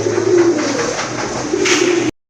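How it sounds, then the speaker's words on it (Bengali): A racing pigeon gives a low, throaty coo repeated in soft rolling pulses at close range, loud and clear for about two seconds before cutting off. "দেখেন একটা কবুতর, এটা কিন্তু একটা রেসারের নর কবুতর।"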